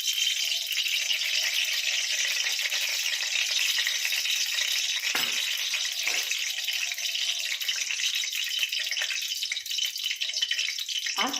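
Ghee sizzling and frying in a hot kadai, a continuous bright crackle that holds steady and close throughout, with no talking.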